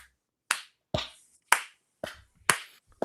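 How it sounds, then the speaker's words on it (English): Five sharp, widely spaced hand claps at about half-second intervals, each crisp and isolated against silence in a slow, deliberate rhythm. "Slow clap that shit."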